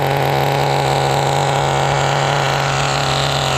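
An HPI Nitro RS4 RC car's nitro engine, warmed up and running rich, idles steadily and loudly up close with a constant buzzing drone.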